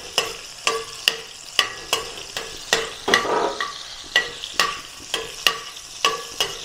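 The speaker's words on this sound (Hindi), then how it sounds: "इसमें डाल देंगे 3-4 लौंग और एक दालचीनी का टुकड़ा" Cloves and a piece of cinnamon sizzling in melted butter for dal makhani, a steady frying hiss punctuated by regular sharp ticks, like a spoon tapping the pan, close up with no talking.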